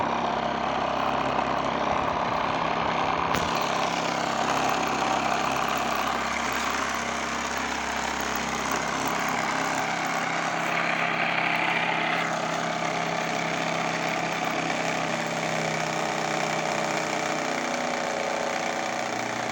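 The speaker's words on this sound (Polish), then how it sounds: "przy tak dużym śmigle to naprawdę silnik ma bardzo ciężko" A loud, steady whirring of a BLHF-RM synchronous electric motor spinning a large propeller runs throughout, its pitch shifting slightly partway through, with no talking.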